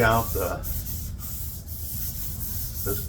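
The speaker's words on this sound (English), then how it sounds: "So I'm just going to lightly sand right now" Steady, gritty rubbing of sandpaper lightly sanding painted wood, continuous and close, with a brief voice at the start and end.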